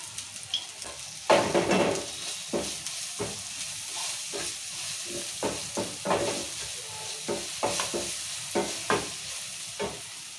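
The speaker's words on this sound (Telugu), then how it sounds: "టమాటాలు ఉల్లిగడ్డలు మంచిగా మగ్గుతున్నాయి" Tomatoes and onions sizzle and fry in a pan for a carrot fry, with repeated scraping stirs of a utensil against the pan over a steady hiss, close and fairly quiet.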